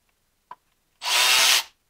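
A power tool spins out a reverse-thread Torx T30 bolt on the VANOS assembly of a BMW E46 during lifter replacement, a small click followed by a single loud burst of whirring lasting about half a second, then silence.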